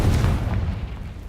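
A Confringo spell blast in Hogwarts Legacy, a single deep booming explosion that hits at once and rumbles low before fading over about a second, loud and alone.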